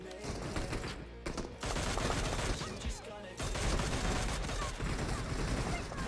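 Rapid bursts of SKS rifle gunfire in a PUBG Mobile team deathmatch crackle loudly and almost continuously, with short pauses between volleys and a voice talking faintly at times.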